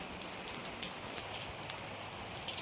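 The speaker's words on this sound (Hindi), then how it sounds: "देखिए कितनी तेज बारिश हो रही है" Heavy rain pours down steadily, a dense, even hiss broken by scattered sharp drop impacts, alone with no speech.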